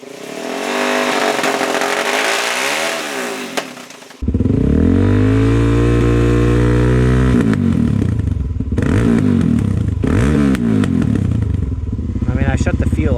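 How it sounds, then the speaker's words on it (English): A Suzuki DRZ400S single-cylinder motorcycle engine with its fuel shut off, revving loudly and smoothly: a steady roar with repeated rises and falls in pitch as the throttle is blipped and held, close up with no talk. "you should just be able to hold it there like that, and it doesn't make any weird surging, popping, hesitating, bogging, anything. It just revs smoothly."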